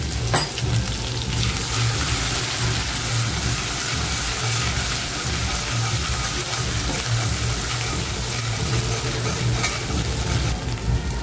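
Crushed ginger, garlic and green chilli thecha hit hot oil in a pan, starting with a sharp splash and settling into a loud, steady, crackling sizzle that runs unbroken for about eleven seconds, with no talking.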